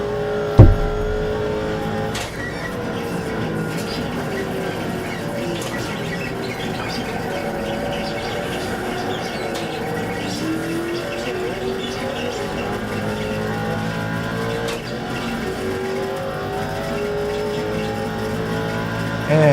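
Race cars and Ford Mustangs in GTC class traffic during an iRacing league race, engines droning steadily at high revs throughout, layered together as the cars run close.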